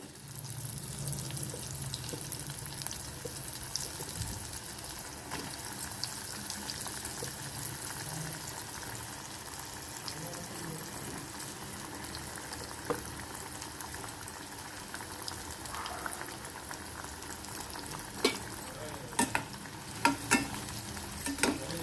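Pieces of pulla kanda yam frying in hot oil, a steady dense bubbling sizzle that runs unbroken for over twenty seconds, close up, with a few sharper clicks and stirring scrapes toward the end and no talking.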